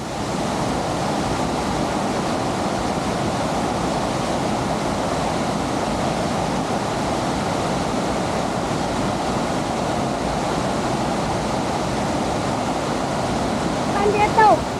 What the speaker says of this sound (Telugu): ఈ పోచారం డ్యామ్ కాడ అలుగులు వారుతున్నాయి